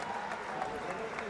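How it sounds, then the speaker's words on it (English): Pro boxing arena crowd applauding a fighter after the bout ends, a dense, roaring wash of clapping and cheering with a commentator's voice running over it. "And Zulpikar getting the applause of the crowd."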